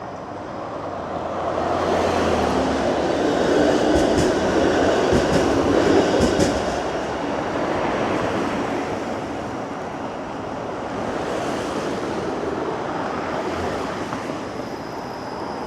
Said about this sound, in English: When there's a streetcar at an intersection though, sometimes the light can be prolonged so that the streetcar is able to pass through the intersection.